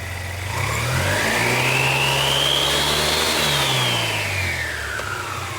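A Nissan CVT transmission runs with its belt exposed, the motor whirring up to a higher pitch and then gradually winding back down, loud and close throughout.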